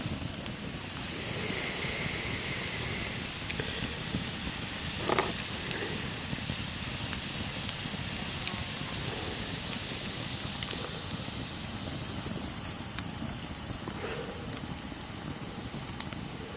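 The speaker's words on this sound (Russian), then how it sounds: "Все кипит, все закипает." A pot of fish soup boils with a steady bubbling hiss, continuous and fairly loud, with no voices.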